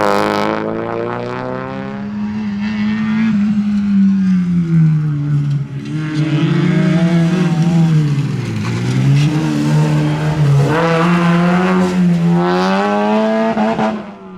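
A small racing buggy's engine screams loudly and close at a Shackleton circuit race meeting, with sustained high revs rising and falling through gear changes and corners, running continuously without pause.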